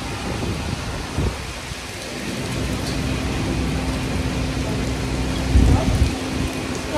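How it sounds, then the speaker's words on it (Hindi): Steady outdoor rain falls around a person in Multan, Pakistan, a broadband patter that holds at an even level throughout, with a brief louder burst near the end. "मैंने देखा कि यहाँ पर तो बारिश हो रही है"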